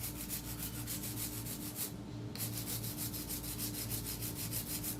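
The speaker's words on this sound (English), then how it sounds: "let's do a little bit of hand filing" A hand nail file rasps back and forth on a fingernail in a nail studio: steady, rapid, close strokes, briefly pausing once before resuming the same even rhythm.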